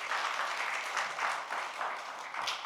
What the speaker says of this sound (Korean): 그분들에게 우리 큰 박수 한번 쳐주시기 바랍니다